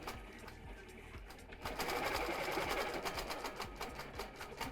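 A longarm quilting sewing machine fitted with an EZ Ruler Foot stitches with a rapid, steady mechanical chatter that picks up speed partway through, close and alone.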